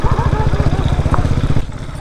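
A 2019 Bashan Brozz 250 dual-sport motorcycle engine runs close by with a steady, throbbing low pulse and a quiet exhaust, the rhythm holding evenly before easing slightly near the end.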